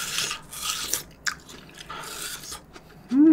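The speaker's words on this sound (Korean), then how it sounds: "이 수박은 여기 흰 부분 있잖아요. 이 흰 부분이 굉장히 아삭아삭하고" Crisp bites into the white rind part of a watermelon, with crunchy chewing and juicy rubbing noises in short bursts up close, ending in a brief voiced sound.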